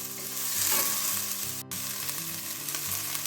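Chicken curry for a Chinese-style dish sizzles and fries steadily in a pan, with a brief break midway, loud and close, with no speech.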